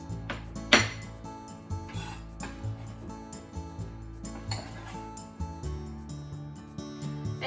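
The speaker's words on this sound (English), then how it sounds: "so let's put it in a small bowl and set aside" Ramen topping set into a small ceramic bowl in a kitchen: a run of clinks, taps and knocks of dishes and utensils, one sharper clatter near the start, no talking.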